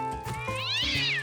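Cartoon cat meowing, a single drawn-out rising and falling meow, clear and close, alone without talk.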